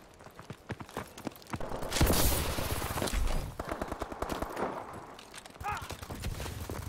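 Bursts of automatic gunfire and single shots ring out in a hardcore team deathmatch of Call of Duty: Advanced Warfare, a dense steady barrage with a loud burst near the middle and no talk over it.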